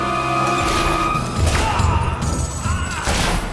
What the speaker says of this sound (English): It sounds like some of the guards are still fighting in there.